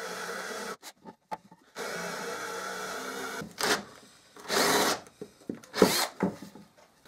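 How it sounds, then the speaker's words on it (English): Wood is drilled with a 35 millimetre Forstner bit using a power drill: several bursts of whirring and grinding of varying length, separated by pauses and small knocks, close and moderately loud. "I'm going to drill a hole with a 35 millimeter Forstner bit"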